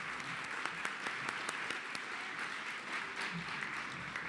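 Applause from the audience at an ethics awards ceremony in Dayton, Ohio, honoring scholarship recipients; steady mid-distance clapping with scattered sharper claps, no talking.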